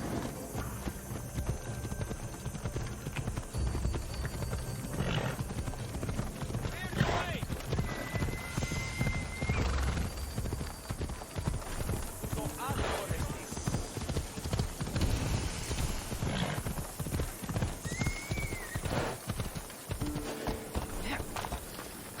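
A horse in Assassin's Creed Odyssey gallops on Kythera Island, with a continuous rhythmic drumming of hooves close by, a few light whinnies, and occasional talk over it.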